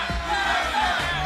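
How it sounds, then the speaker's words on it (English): At the 2014 NA LCS Playoffs Finals between Cloud9 and TSM, Cloud9 fans chant together in the arena, a dense, steady roar of many voices with rhythmic pulses. "Cloud9 chants are starting to overpower the disheartened TSM fans in the crowd."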